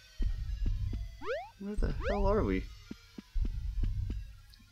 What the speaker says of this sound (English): There's like a heartbeat or something in the background.